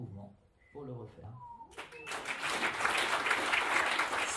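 Audience applause breaks out at a Rubik's Cube speed-solving performance, starting as scattered claps after a brief stretch of talk and swelling into loud, sustained clapping from a crowd.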